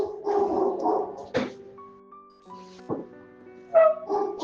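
A dog gives several close yips and barks with whimpering tones, spread irregularly over a few seconds against sustained tonal sounds.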